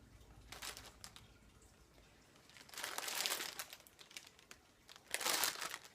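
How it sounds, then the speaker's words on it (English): Crinkling of packaging, likely yarn wrappers, in a podcast about knitting: three bursts of crackly rustle, the last two louder and longer, with quiet gaps between and no talk. "There will be crinkling."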